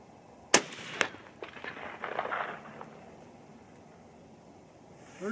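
A 25-06 Remington rifle firing 117gr Sierra GK bullets loaded with Ramshot powder: one sharp, loud crack followed by a fainter second report and a rolling echo that fades into quiet outdoor air.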